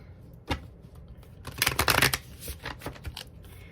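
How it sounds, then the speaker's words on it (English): Tarot cards shuffled by hand in quick riffling bursts, with a louder flurry in the middle, close and fairly quiet. "One more quick shuffle here."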